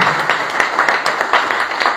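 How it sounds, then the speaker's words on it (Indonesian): Congregation clapping in a church during a revival service, a steady dense patter of many hands at moderate loudness with no talk over it. "Beri tepuk tangan terbaik bagi Tuhan."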